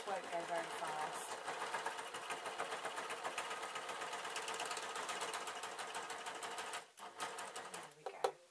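A domestic sewing machine stitches replacement covers for a Vax mop, running steadily at a moderate pace in a dense mechanical chatter, then pausing briefly near the end before a few short restarts.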